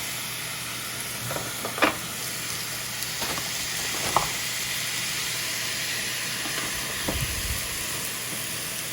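Frozen chicken breasts sizzle and hiss steadily on a hot Ninja Foodi grill, a constant loud frying noise with a few scattered clicks and clunks.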